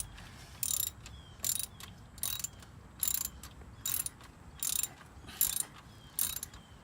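A ratchet loosening bolts on an F150 alternator, seven or eight short bursts of rapid clicking in an even rhythm, fairly close and clear over a low background hum.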